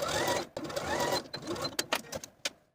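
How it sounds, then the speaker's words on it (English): A sewing machine stitches the sleeve hems of a jumpsuit, first in a continuous fast whir and then in short stop-start bursts that trail off, close by, with no speech. "Using a zigzag stitch, a twin needle, or a cover stitch machine, go ahead and stitch those hems in place."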